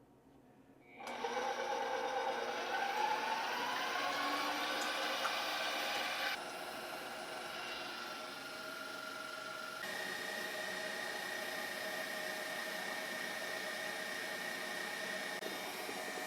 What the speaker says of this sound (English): We're going to whisk our eggs until they become frothy.